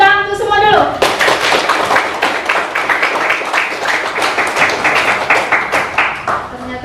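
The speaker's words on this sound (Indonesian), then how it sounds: "Tepuk tangan untuk semua dulu." A classroom of students claps together for everyone after answering about conflict, a dense burst of many hands, loud and close, filling the room for several seconds after a brief spoken lead-in.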